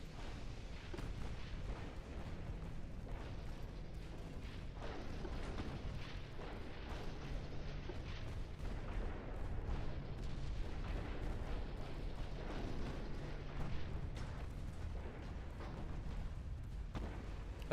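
Naval battle in the Ultimate Admiral Dreadnoughts game, with a steady barrage of heavy ship gunfire and booming shell blasts layered over a constant low roar, distant and muffled throughout.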